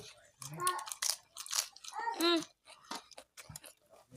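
Crunchy chewing of a crisp male fish with rice, heard up close in short bursts interleaved with a person talking.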